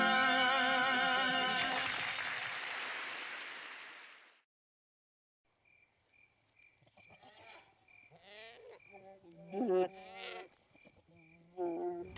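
A goat in a film lets out one long, loud, wavering bleat lasting several seconds, followed by a brief silence and then people talking with some laughter.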